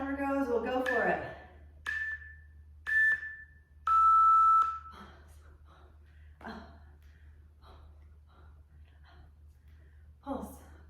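A workout interval timer beeps four times in a countdown, three short high tones and then a longer, lower tone, loud and clear, with heavy breathing and a voice talking around them.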